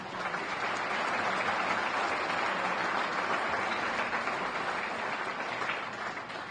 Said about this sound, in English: So let's give a nice round of applause to Ben Erickson.